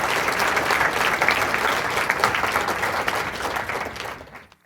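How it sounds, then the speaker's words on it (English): A large audience applauds steadily at a haunted-attraction industry awards ceremony, dense clapping holding loud and even for several seconds before fading out at the end. "let's have another round of applause for the folks for Rotten Apple 907"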